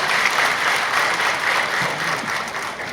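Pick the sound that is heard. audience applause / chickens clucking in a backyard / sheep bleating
audience applause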